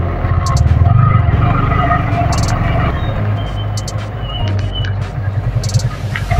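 A Hero Splendor motorcycle is ridden with a steady low engine drone throughout, heard close and loud with faint rhythmic rumbles and light wind noise.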